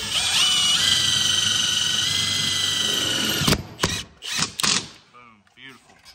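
A power drill drives self-tapping screws into a full skid plate on a CFMOTO ZFORCE 950 H.O. EX side-by-side, a steady whirring drive of about three and a half seconds ending in a sharp stop, then a few short bursts and clicks.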